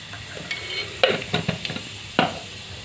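Cumin seeds crackle in hot mustard oil in a kadai, a soft sizzle broken by several sharp stirring clinks and scrapes of a utensil against the pan, close and without speech.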